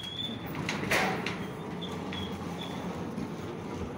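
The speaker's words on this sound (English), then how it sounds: "Right now, it's just bouncing my door around." A small FP202 aircraft's door rattles and knocks in gusty wind at an airfield, with a few sharp bumps over steady broadband wind rush.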